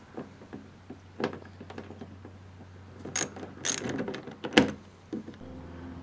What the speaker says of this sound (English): Next, we'll remove the two 10 millimeter bolts holding the tailpiece on.